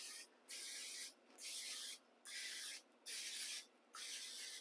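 Cooking oil spray hisses in five short bursts into a very hot muffin pan for popovers or Yorkshire puddings, each bright spritz lasting about half a second with brief pauses between.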